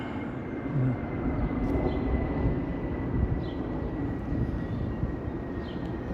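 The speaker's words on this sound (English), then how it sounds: "Airliner." A steady, broad jet roar from an airliner passing overhead fills a city scene, loud and sustained with a faint tonal whine.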